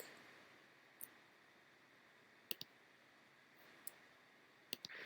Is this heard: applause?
no